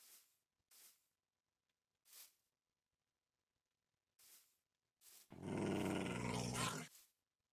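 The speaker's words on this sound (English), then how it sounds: "I'm gonna have to deal with that dog, aren't I?" Dog growling in the modded Minecraft SevTech: Ages game, with four short growls spaced apart followed by one long, loud, rough snarl lasting over a second.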